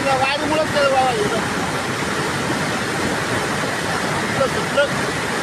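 Continuous loud rushing floodwater roars steadily throughout in Pune rain, carrying water hyacinth, a broad churning wash with faint voices and scattered higher tones mixed in.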